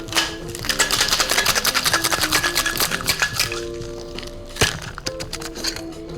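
Ice cubes rattle hard inside a cocktail shaker for a caipirinha, a loud rapid rhythmic clatter that runs steadily for several seconds before a final knock.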